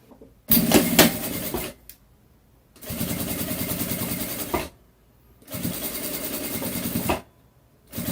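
Sewing machine stitching a fabric wallet, running in three loud mechanical bursts of rapid whirring stitches separated by short quiet pauses.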